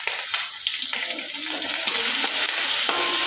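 Onion, garlic and chillies fry in a hot pan with a loud, dense, continuous sizzle and crackle close by.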